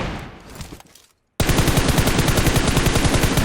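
Rapid automatic gunfire in PUBG Mobile, a dense, loud burst of evenly spaced shots that starts abruptly after a brief quieter stretch and a short silence, then carries on without a break.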